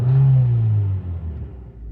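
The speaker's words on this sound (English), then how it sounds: "Check this out, I will hit throttle." A car engine revs as the throttle is pressed during a diagnostic scanner test, a loud steady rise held for about a second before the revs fall back and settle into a low rumble.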